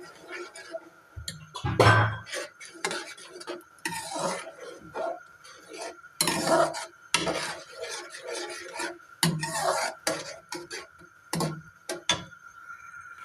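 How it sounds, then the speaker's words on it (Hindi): Cornflour slurry is stirred into a sauce in a pan for chicken Manchurian, making irregular scraping and clinking strokes of a utensil against the pan. The sounds are close and intermittent, with some louder bursts and quiet gaps and no speech. "अब हम इसके अंदर डालेंगे और इसको करेंगे अच्छे से मिक्स"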